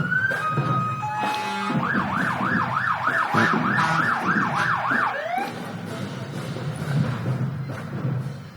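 Sirens wail from Gott Fire Department trucks rolling in a Veterans Day parade, starting with a steady tone, then sweeping rapidly up and down for several seconds before fading into street noise.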